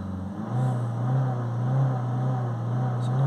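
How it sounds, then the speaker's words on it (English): A Ford car engine with a diesel particulate filter fault revs under acceleration, a loud steady droning hum that rises and holds for a few seconds, close and continuous with no talk. "So give it some acceleration just to see the temperature increase slightly"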